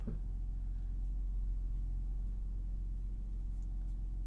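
A 2018 Dodge Grand Caravan Cargo cruising, heard from inside the cabin as a low, steady engine and road rumble, faint and constant with no talking.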